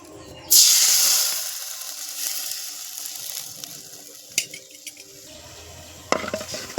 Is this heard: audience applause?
no